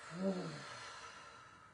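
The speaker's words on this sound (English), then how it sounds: "Breathe in through the nose. At the top, another sniff. And exhale." A single deep sniff or inhale through the nose followed by a long, soft exhale during a guided breathing exercise, close and fairly quiet, with no talking.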